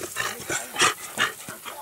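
Beagle hounds at a beagle kennel give several short barks and yelps in uneven bursts, fairly close and moderately loud, with no talking over them.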